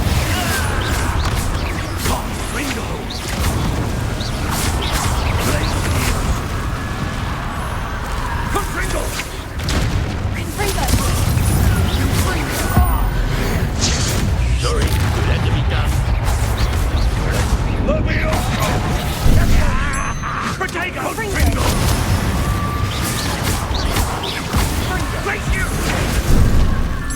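Confringo fire spells burst repeatedly in Hogwarts Legacy combat, heavy booming explosions and crashes landing one after another throughout, with shouted voices over the fighting.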